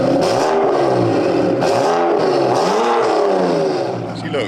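BMW wide-body car drives off with its engine revving, rising and falling in pitch through several pulls, loud and close inside, then easing toward the end.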